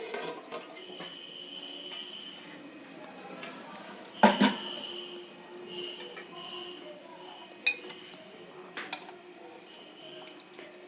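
Chicken curry is moved into a serving dish, with a few sharp clinks of a metal pan and utensil over a quiet room, one louder clank near the middle, then scattered lighter taps.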